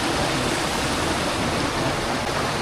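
A waterfall at Khao Khram in Phatthalung, Thailand, gives a dense, unbroken roar of falling water, loud and steady from start to end with no voices.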